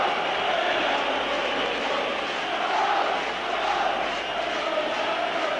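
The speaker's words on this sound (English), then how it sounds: "So the noise building up again among the Rangers supporters." Rangers supporters at the 1993 Scottish Cup Final against Aberdeen, a steady roar of a huge stadium crowd, distant and sustained with swelling chants, no single voice standing out.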